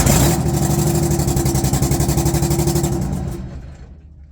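An International Loadstar 1700 truck engine idles nearby with a steady, fast pulsing chug, loud at first, then fading and dying out toward the end.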